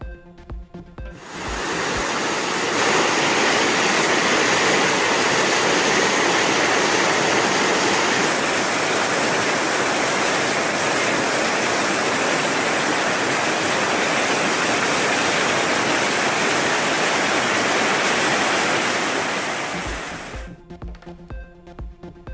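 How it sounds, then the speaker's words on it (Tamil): Floodwaters rush down rivers swollen by heavy rain in Tamil Nadu, a loud, unbroken roar of water that holds steady for about twenty seconds before cutting off. "தமிழகத்தின் பல்வேறு பகுதிகளில் பெய்த கனமழையால் ஆறுகளில் வெள்ளப்பெருக்கு."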